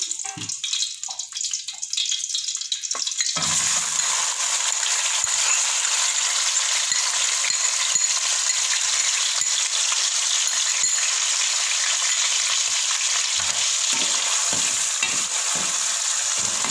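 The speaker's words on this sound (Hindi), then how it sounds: "सबसे पहले हम घी में प्याज ऐड करते हैं।" Onions hit hot ghee in a pan and burst into a loud, steady, hissing sizzle that carries on evenly after a short quieter start, with no talk over it.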